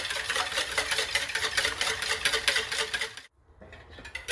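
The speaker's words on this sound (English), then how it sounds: "Just gonna whisk that together." Four eggs being whisked together in a bowl for a sweet potato and broccoli quiche, a fast, steady rhythmic clatter of the whisk against the bowl that stops abruptly, then starts again.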